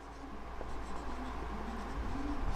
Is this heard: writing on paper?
yes